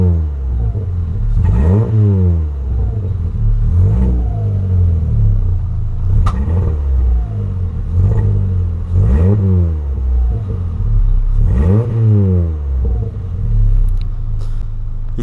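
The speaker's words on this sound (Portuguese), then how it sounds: "Tá berrando o Polão, hein?" A VW Polo with a sports exhaust, running on ethanol on a cold day, revs again and again in loud, rumbling bursts. The rhythmic surges rise and fall close to the microphone.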